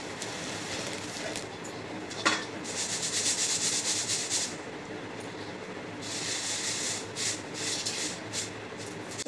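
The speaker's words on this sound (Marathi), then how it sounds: "हे असं चाळणीनं चाळून घेते मी चुरमुरे" Puffed rice is shaken through a sieve, producing soft, rhythmic rustling and grainy swishing in bursts, close and fairly quiet, with a brief knock partway through.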